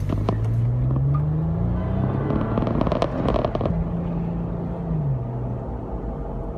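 A truck rolls past on the road close by, a loud steady engine rumble with a rising and falling drone.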